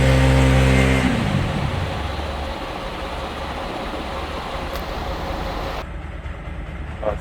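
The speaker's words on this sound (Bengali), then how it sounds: "একদম ফ্রেশ ইঞ্জিনের সাউন্ড" A 2022 X-Connect motorcycle engine runs loud and close, opening with a strong throaty rev that eases into a steady running drone.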